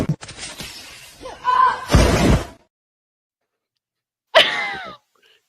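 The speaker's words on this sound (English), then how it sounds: "The noise of that glass." Glass breaks in a loud, sharp crash that rings out briefly, followed after a pause by a second sudden smash. Brief voices and noises come before the crashes.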